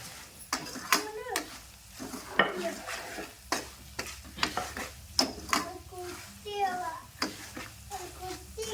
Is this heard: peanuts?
yes